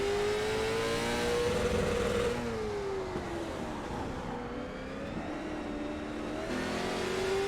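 A late model race car engine roars at full throttle, a steady loud drone that rises and falls in pitch as it pulls through a lap at the LA Colosseum, heard alone without talk.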